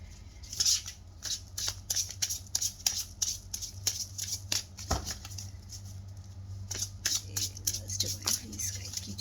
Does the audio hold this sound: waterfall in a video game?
no